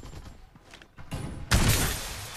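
Gunfire in the shooter game Farlight 84: after a quiet stretch, a rising burst of noise is followed by a loud, sharp barrage of shots that keeps going to the end.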